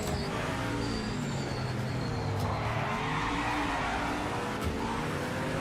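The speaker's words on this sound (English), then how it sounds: "That's the kind of drifting I'm talking about." A GTO race car drifting in the Project Motor Racing video game, its engine droning continuously with tires squealing through the slide, steady and fairly loud throughout.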